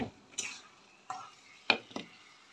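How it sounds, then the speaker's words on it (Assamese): Fish pieces are stirred into softened masala in a pan for a fish curry, heard as four short, separate scrapes and clinks of a spoon against the pan over near silence. "এয়া মাছখিনি দি অলপমান ইয়াতে লৰচৰ কৰি অলপ দেৰি ৰাখিব লাগিব"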